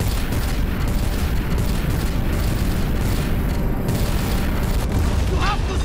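Heavy weapons fire on the Celestial in the Guardians of the Galaxy video game as a dense, continuous roar of booming blasts and rumbling detonations fills the space loudly without a break.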